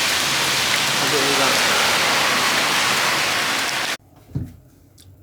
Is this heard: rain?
yes